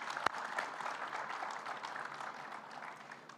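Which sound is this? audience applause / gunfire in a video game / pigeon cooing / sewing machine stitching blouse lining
audience applause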